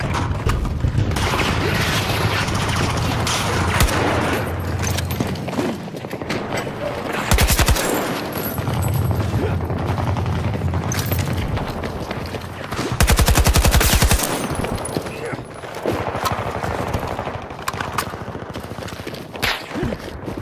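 Rapid bursts of Battlefield 2042 gunfire, automatic weapons including the AK-24 rattling in long volleys with a few heavier booms, loud and continuous.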